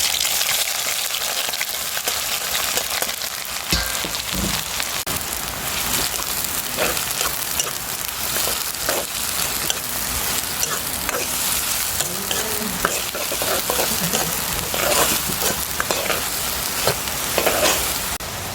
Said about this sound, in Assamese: নেক্সট এতিয়া পিঁয়াজ আৰু জলকীয়াটো দি দিম আৰু।